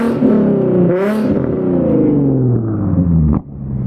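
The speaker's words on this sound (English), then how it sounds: "Rev it to like 4 or 5, and then turn the key off." A Nissan Z engine revved to around four or five thousand and then switched off with the key, a loud, close rev that slowly drops in pitch before a sharp pop near the end and a quieter tail.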